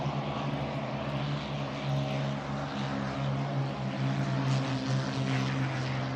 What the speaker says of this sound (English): So to get these old boats out here, making this noise right here